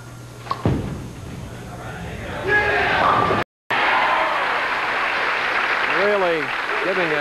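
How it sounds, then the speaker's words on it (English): Sustained crowd cheering and applause for a hometown bowler at the 1990 Fair Lanes Open bowling tournament, swelling after a clatter into a loud, continuous roar with whistles, while a commentator talks over it. "That's the most sustained cheering that we've heard on the tour for a long time."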